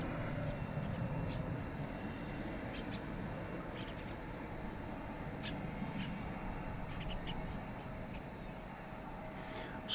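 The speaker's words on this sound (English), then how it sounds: "Sounds like we've got another 777 on the way" Steady, distant jet roar at Dallas Fort Worth Airport at night, with a Boeing 777 airliner approaching to land, a broad rumble holding throughout, with faint chirps and brief sounds over it.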